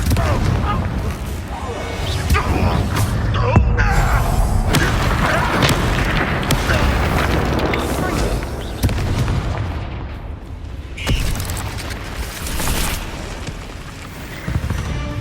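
A Confringo blasting spell goes off in Hogwarts Legacy, a deep booming explosion with rumbling bursts and debris, over game music and brief character voices.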